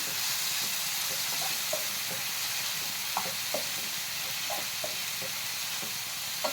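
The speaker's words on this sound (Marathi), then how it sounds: "लसूण थोडासा जास्त टाकायचा. त्याला चांगलं मिक्स करून घ्यायचं." A garlic mixture is stirred in a hot frying pan while preparing shahi matar paneer masala, a steady sizzle and hiss with scattered soft scrapes and clicks from the spoon against the pan, close and fairly quiet.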